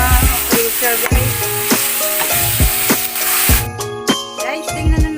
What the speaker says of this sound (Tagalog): hinalo-halo ko lang yung giniling